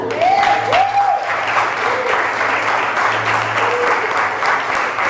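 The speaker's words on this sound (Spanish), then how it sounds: "¿Usted cree que Él merece un aplauso?" A church congregation claps in sustained applause at a Spanish-language service, a loud, dense, continuous crowd clapping with faint voices and tones underneath.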